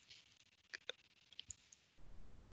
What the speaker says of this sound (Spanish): Simplemente hay que dar clic